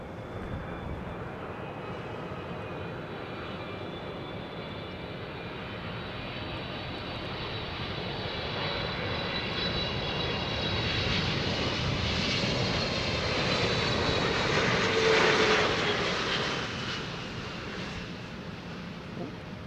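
An Airbus A320ceo airliner comes in to land in gusty, blustery wind, its engine roar rising gradually from a distant hum to a louder peak before easing off, with wind noise underneath.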